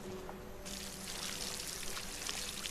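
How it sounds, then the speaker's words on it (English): A watering can pouring over cotton crops in the cozy survival crafting game Solarpunk, a steady splashing stream of water that swells after a moment and keeps flowing, close and unaccompanied by talk. "Let's water the cotton again."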